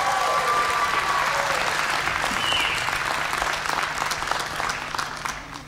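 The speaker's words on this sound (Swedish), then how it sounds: "Det känns bra med lite mer applåder." Concert audience applauding at a live festival show, loud dense clapping that starts full and gradually thins out, with a faint cheer or whistle mixed in.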